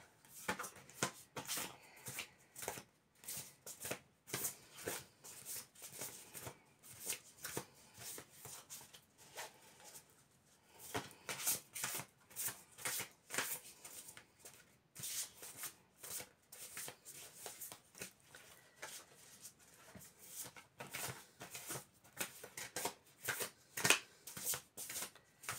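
Tarot cards from a five-element deck being shuffled at length: a steady run of crisp riffling and slapping bursts with brief pauses, close and fairly quiet, with no talking.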